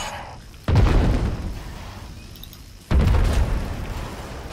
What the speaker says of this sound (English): Gotta love these cannons, eh? Shoot forever.